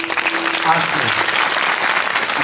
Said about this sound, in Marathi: वाजवा जोरात टाळ्या एकदा.